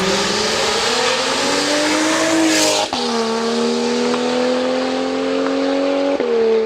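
A BMW 335i engine revs hard and holds a steady high whine, with a sharp gear-shift drop midway and another near the end, loud and close, recorded from the roadside.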